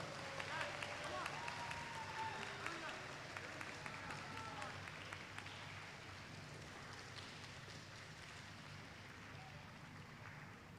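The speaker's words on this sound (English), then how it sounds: "Keep the applause coming." An audience at a Top Gun graduation ceremony claps steadily, the applause loud at first then gradually fading, with some talking mixed in.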